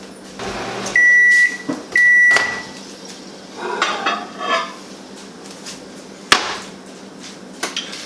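A kitchen microwave oven gives two clear electronic beeps a second apart as it is restarted to cook food for another 90 seconds, followed by clattering dish and utensil sounds and a sharp knock from close by.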